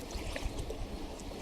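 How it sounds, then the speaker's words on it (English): Water swirls and bubbles around feet wading across a river, a soft, continuous splashing and trickling texture with no voices. "she walked through the water to get to the other side of the river"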